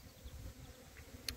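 Honeybees hum around a nuc box, a faint, low, wavering drone with one brief brighter buzz near the end.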